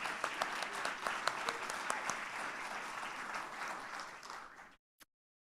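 An audience applauds Dr. Rhodes, who serves on a board, with a few sharper individual claps standing out, then the clapping cuts off abruptly near the end.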